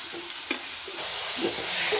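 Grated beetroot stirred and roasting in ghee for a halwa, giving a steady close sizzle with a few louder scrapes of the spoon against the pan.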